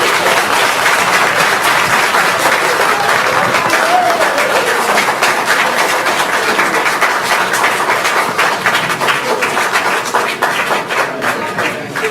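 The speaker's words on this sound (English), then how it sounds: "Members of the gallery break into loud applause" A courtroom gallery bursts into loud, sustained applause, dense overlapping claps filling the room at steady volume from start to finish with no clear voices.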